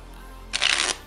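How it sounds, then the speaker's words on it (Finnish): A single short riffle of a deck of playing cards being shuffled during a card trick, close and crisp, lasting under half a second after a quiet pause. "Sitten sekoitetaan vielä tälleen. Ja sekoitetaan vielä toisen kerran."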